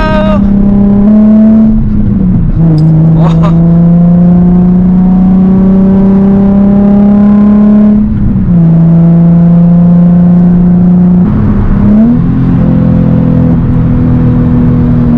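A Nissan 350Z engine revs hard during street drifting, loud and close throughout. The tone climbs steadily, drops sharply at each gear shift, then climbs again, repeating several times over a constant rumbling roar.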